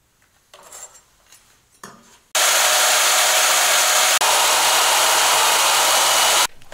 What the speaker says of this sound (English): I'm gonna mark it out with these guys and cut it with the bandsaw